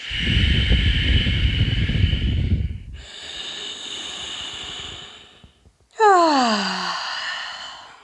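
Breath let out through the mouth during a yoga forward fold: a long, soft airy exhale, then a breathy sigh that trails off into a falling, voiced tone, close and alone.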